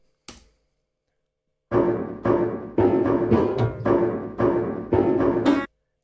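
After a brief click and a pause, a looping piano phrase plays in repeated chords with a steady pulse, clear and close, with no voices.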